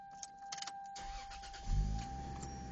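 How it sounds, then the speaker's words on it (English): A car with a Toyota 1JZ-GTE engine cranks briefly and catches, its low rumble swelling near the end and settling into a steady idle, with faint clicks and a steady electronic whine from inside the cabin. "this is pretty much the car starting up"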